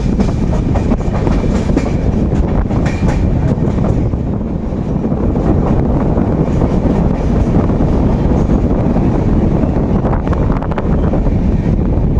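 A train leaving Bishnupur toward Kharagpur rumbles steadily along the rails, a loud, continuous low roar with faint rhythmic clatter and wind buffeting throughout.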